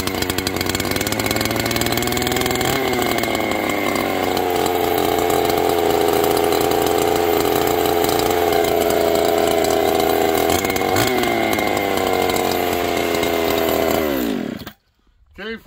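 A ported chainsaw, run lean, roars at full throttle after a cold start in sub-zero weather around -25 degrees, its loud engine holding steady with slight pitch shifts before cutting off near the end.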